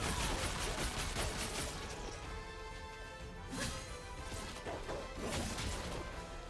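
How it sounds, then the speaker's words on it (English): The big explosion in the action video game Savara erupts as a loud, noisy crash with whooshing debris and sharp impacts, a few bursts of blasts and thuds layered over dense game sound, with no talking. "That's the big explosion."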